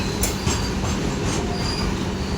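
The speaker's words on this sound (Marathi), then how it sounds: "वॅगन चाललेली आहे." Indian Railways goods wagons rolling past, a continuous loud rumble of wheels on rails with squealing metallic tones and a faint clickety-clack, close and steady.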